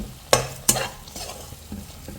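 Spices, turmeric, chilli powder and green chillies frying with crystal salt for chicken biryani, two sharp stirring clacks of a spoon against the pan over a soft, steady sizzle, close up.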